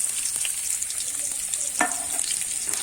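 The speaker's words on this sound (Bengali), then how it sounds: "এবারে কিন্তু কুচিয়ে রাখা পেঁয়াজটা দিয়ে দেবো" Chopped onion sizzles loudly in hot oil in a pan with whole cumin, a dense continuous frying hiss with brief stirring scrapes, for a crab curry.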